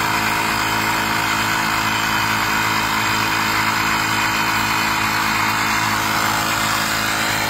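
A portable air compressor inflates an e-bike tire, running as a loud, steady, continuous mechanical drone close by with no pauses throughout.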